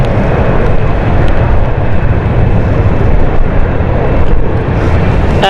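A passenger jet on the Edinburgh flight roars at London City Airport on a stormy night, a loud, continuous broadband rumble mixed with gusting wind.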